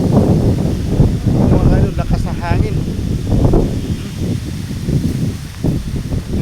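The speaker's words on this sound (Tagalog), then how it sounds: "lakas pa rin ang hangin" Gusty wind buffets the microphone with a low, rumbling roar, rising and falling continuously, while a voice speaks faintly underneath.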